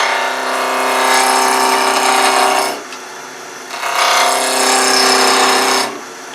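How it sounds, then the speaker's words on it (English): Spindle roughing gouge cutting wood on a lathe for a wheelie bug pull toy, a steady loud scraping hiss in two long passes separated by a brief quieter pause, close and without talk. "So first thing we're going to do is turn it around with a spindle roughing gouge."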